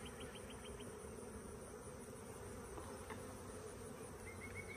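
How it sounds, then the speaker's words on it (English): Honey bees buzzing around a swarm trap while an established colony is moved out, a faint continuous drone with occasional higher passing whines of individual bees close by, no voices. "I want these bees to spread out and make up a little bit more room"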